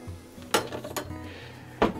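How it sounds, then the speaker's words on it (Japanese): Ingredients cut for Chinese-style yakisoba, with three sharp knocks of a knife hitting the board and clinks of kitchenware, close and distinct over a quiet background. "では、材料をちょっと切っていきましょうかね。"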